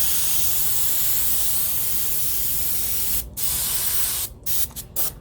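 An airbrush sprays paint onto a roller skate in a close, steady hiss that breaks into several short, stuttering bursts near the end.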